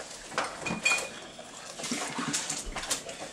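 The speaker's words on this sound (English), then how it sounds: "The Bankley Killians doing dishes at the Valmers." Dishes being washed at a home sink during a New Year's Eve gathering, scattered light clinks and clatters of plates and cutlery with running-water hiss, fairly faint and irregular, with no talking.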